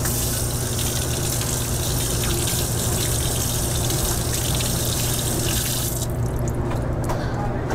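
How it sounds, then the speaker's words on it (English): Cool tap water gushing steadily as a printer fan filter from an Entrust Datacard card printer is rinsed under a faucet, a loud continuous splashing stream that thins out toward the end. "Rinse the filter with cool water."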